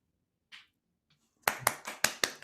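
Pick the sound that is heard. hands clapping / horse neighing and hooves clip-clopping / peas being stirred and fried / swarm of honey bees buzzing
hands clapping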